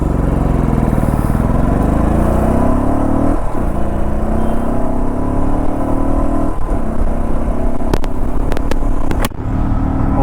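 Royal Enfield motorcycle running on LiquiMoly oil and accelerating hard from 0 to 100, engine droning loud and close as pitch climbs, drops at quick gear changes, then climbs again, with a few sharp clicks near the end.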